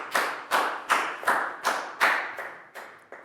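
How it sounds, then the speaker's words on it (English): A small classroom of Year 4 pupils claps for a classmate in a short burst of about eight distinct, evenly spaced claps, close and fairly loud, with no talking. "Big round of applause for Pak Bung,"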